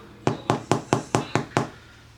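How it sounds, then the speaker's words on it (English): Seven evenly spaced hollow knocks on the underside of a freshly baked sourdough loaf, each a sharp, close tap with a short decay, about a fifth of a second apart and with no talking. "give it a little knock. Should sound hollow."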